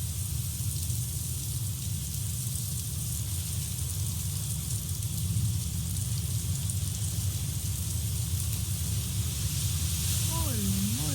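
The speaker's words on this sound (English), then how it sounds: "Look at that rain and look at those winds." Heavy rain and strong wind during a thunderstorm on the windward side of Oahu make a dense, steady roar and hiss, loud and unbroken. A faint voice comes in at the very end.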